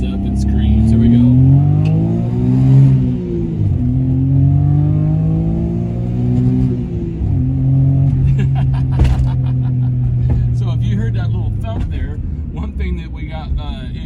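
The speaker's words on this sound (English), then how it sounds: "we'll get on the throttle here and see what it sounds like. This little car, little 3-cylinder thing, it's just fun. It just winds up and screams." A 1987 Suzuki Alto Works RS-X with a 550cc three-cylinder fuel-injected intercooled turbo engine revs up through several gears, its rising harmonic whine climbing and dropping at each shift, loud and close, with occasional voice over it.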